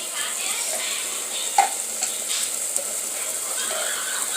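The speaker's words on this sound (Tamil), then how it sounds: "இஞ்சி போட்டு வதக்குங்க." Chopped ginger sautés in a pan with softened onion and garlic for a chicken, potato and drumstick salna, giving a steady soft sizzling hiss with a few faint clinks of stirring.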